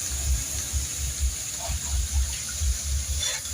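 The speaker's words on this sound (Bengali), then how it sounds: "জল দিয়ে দেবো।" Water is poured into a simmering taro curry with rohu fish, producing a low, rhythmic gushing and bubbling in the pot that continues steadily at close range.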